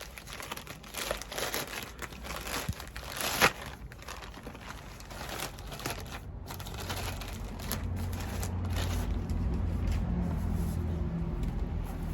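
Packaging of a parcel of books crinkles and rustles close by as it is unwrapped, a steady run of papery crackles and tearing, later over a low background hum.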